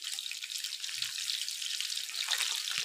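Fish frying on a tawa sizzles and hisses as it is pressed down, a steady crackling spatter of water in hot oil, fairly quiet and without talk.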